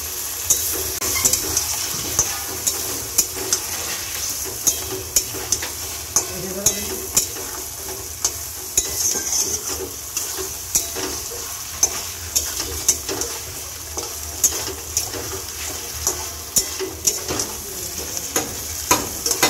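A spice masala fries with coconut milk in a pan for a vegetarian potato dish, a bubbling sizzle under repeated rhythmic spoon scrapes and stirs, close and steady, with no one speaking.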